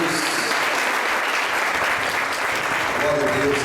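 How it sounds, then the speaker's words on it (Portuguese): Dense, sustained applause fills a church hall as the congregation at a spiritual warfare seminar claps for the Lord, loud and close, with voices faintly mixed in near the end. "aplaudindo ao Senhor também em nome de Jesus?"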